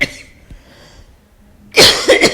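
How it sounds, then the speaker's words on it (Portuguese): A woman recovering from flu coughs forcefully, starting with a short cough and then a harsher, louder burst of two or three coughs close up. "E quando eu começo a tossir,"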